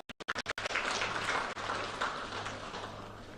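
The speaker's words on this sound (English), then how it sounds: "I think we can clap for him once more" At a town hall meeting in Ho, Volta Region, a crowd claps for the Regional Minister, beginning with a few sharp separate claps before swelling into sustained, fairly faint applause.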